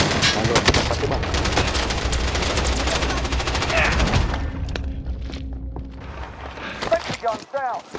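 Rapid automatic gunfire in Call of Duty: Rebirth Island, dense and loud for several seconds, then fading to scattered sounds as players talk.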